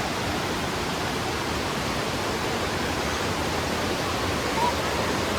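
Kallar Meenmutti waterfall in Kerala gives a constant, dense roar of rushing water, loud and unbroken throughout with no pauses.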